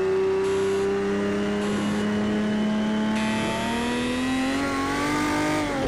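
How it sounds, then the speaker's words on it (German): A Porsche 917 K race car in Project Cars 2 on the historic Spa circuit, its engine loud and close, holding a steady high drone and then rising in pitch under full throttle. "jetzt aber starten wir das Ganze mal und fahren die ersten paar Meter mit diesem Power Porsche auf dieser historischen Strecke"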